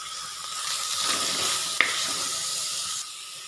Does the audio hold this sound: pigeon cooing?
no